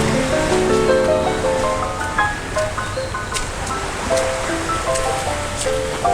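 Ocean surf washes steadily along the seaside at Dumaguete in the Philippines, a continuous close rush of waves with bright clinking and tonal sounds layered on top.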